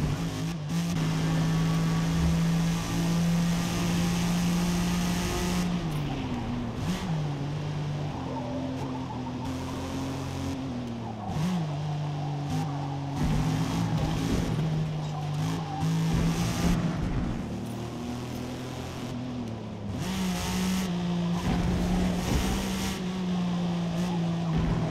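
A race car in Forza Motorsport drives a lap, its engine droning loudly and shifting pitch through gear changes and corners, with brief tire noise and no talking.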